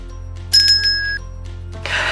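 A bright electronic notification chime rings once with clear high tones, then fades, and a short soft whoosh follows at the end.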